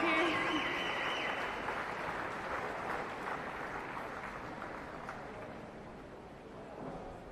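An audience in a swimming championship arena applauds a women's 200 backstroke national champion, with steady clapping that fades gradually across the hall amid echoing arena ambience.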